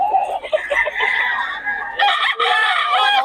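A Sweater gamefowl rooster at a market crows close and loud, followed by clucking, other fowl sounds and a second crow, with market noise around it.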